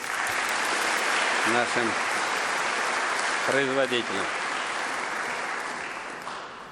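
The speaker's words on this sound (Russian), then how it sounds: "Аплодисменты" A large audience at a formal address in Tatarstan claps in sustained, dense applause that fades toward the end, while someone speaks briefly over it twice.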